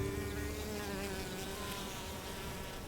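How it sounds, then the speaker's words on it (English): Bees buzz steadily around flowers while gathering pollen, a soft continuous droning hum with several wings overlapping, faint and unbroken, with no voices. "a sweet temptation for bees that harvest it diligently among the labyrinth of pistils"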